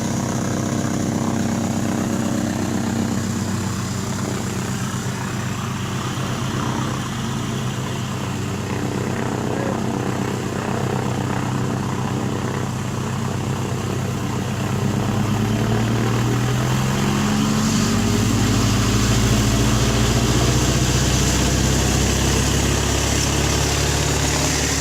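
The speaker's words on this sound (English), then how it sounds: "Now we're right behind that tow plane, and we are going up into the air." A single-engine tow plane's propeller drones loud and steady while towing a glider aloft, heard from the glider just behind it, with a constant roar and a slight shift in engine pitch partway through.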